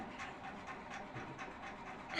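A puppy pants quickly and softly at close range, a rhythmic breathy huffing with a faint scratch near the end and no talking.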